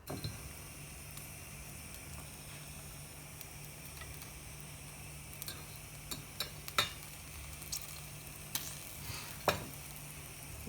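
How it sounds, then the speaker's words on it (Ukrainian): Pasta sauce stirred and left to stew in a pan gives a faint, steady low sizzle, with a few scattered soft clicks and taps from the spoon late on and no talking. "Тепер розмішуємо все до однорідної маси, і далі воно собі буде у нас тушитися."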